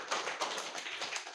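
Children in a classroom clap together for classmates, a steady run of fairly quiet, rapid, overlapping claps.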